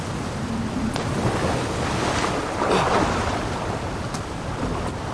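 Rushing water from a waterfall in the video game Assassin's Creed Valhalla, a steady broadband roar that swells slightly midway, heard alone with no talk.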